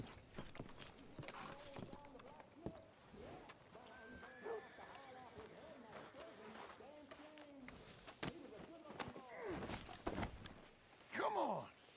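Horse hooves clip-clop in Red Dead Redemption 2 with a steady, moderate rhythm beneath game ambience, faint groans and background sounds, ending with a louder, brief burst.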